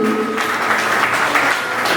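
Applause rising from the audience at a school literary competition prize announcement as the principal of St. Vincent School is welcomed on stage, a steady dense wash of clapping filling the hall without pause.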